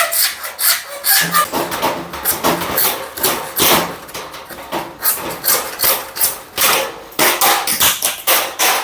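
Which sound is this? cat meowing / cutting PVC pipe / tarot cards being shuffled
cutting PVC pipe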